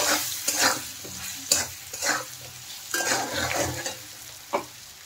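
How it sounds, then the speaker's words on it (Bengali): Fish curry with salt and chili powder being stirred in a pan, a spoon scraping in several distinct strokes over a steady low sizzle, close and fairly loud, with no talking. "এখন নেড়ে চেড়ে ভালো করে মিশিয়ে দেব।"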